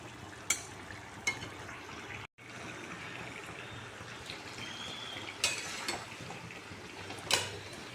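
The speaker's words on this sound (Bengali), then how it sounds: "ইলিশ মাছের মাথা দিয়ে আর কচুর গাঠি আলু দিয়ে রান্না করছি" Hilsa fish head cooks with taro stems and potatoes in a pan, giving a soft continuous frying hiss broken by occasional clinks of a spoon against the pot.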